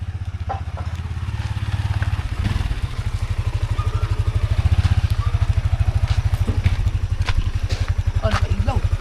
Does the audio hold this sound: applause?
no